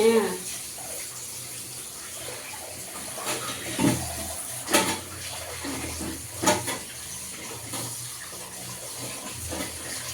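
Water runs steadily from a tap while a basket is being washed, a continuous close splashing flow with occasional louder knocks and splashes as the basket is handled.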